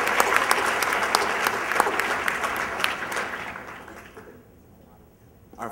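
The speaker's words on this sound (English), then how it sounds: "Let's give a big round of applause to Hannah Richman." Audience applause at a school staff awards ceremony, a dense steady patter of clapping that rings out for several seconds, then fades and thins toward the end.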